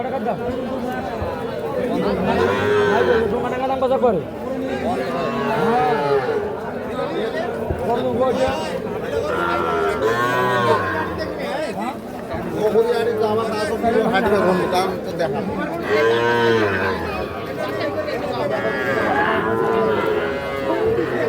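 Sahiwal bull calves moo repeatedly at a busy cattle market, drawn-out lowing calls rising above a steady crowd babble, while nearby people chatter and bargain throughout.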